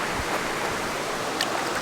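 A clear forest stream in Oregon's Siuslaw National Forest flows with a steady, dense rushing wash, close and continuous.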